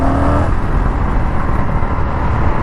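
Indian FTR 1200 motorcycle cruising in third gear at about 40 mph, a steady loud engine drone mixed with heavy wind rush, continuous and close throughout.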